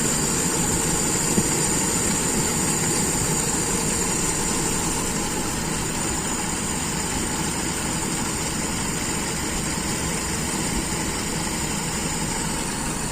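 An engine idles steadily after a standard carburetor adjustment, a continuous close, loud mechanical drone with an even rumble and no talking.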